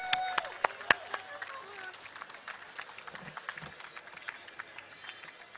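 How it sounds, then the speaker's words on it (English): At an alumni annual meet in Delhi, an audience gives scattered, fairly faint applause as a stand-up comedian host is welcomed on stage. A few sharp claps stand out early, and voices are heard beneath them. "amidst your thumping applause, please welcome on stage the host for tonight"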